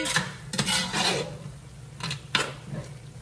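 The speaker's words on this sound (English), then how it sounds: "I'm gonna go ahead and stir this again really quickly" A spoon stirs tomato sauce in a pot for homemade lasagna, scraping and clinking against the metal in a few quick, close passes, with a couple of sharper knocks and no voices.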